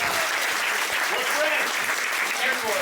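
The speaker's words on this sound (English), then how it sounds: "Give him a round of applause, man." Comedy club audience applauding a military serviceman, a steady dense wash of clapping with some cheering and voices mixed in throughout.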